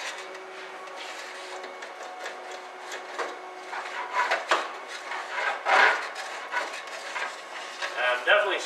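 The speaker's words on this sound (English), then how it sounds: "Definitely scrape it out of the tank." Residue is scraped out of the fuel tank of a 1950 Plymouth Deluxe barn find with a rasping, irregular scratching. The strokes are faint at first and grow louder and more frequent toward the end.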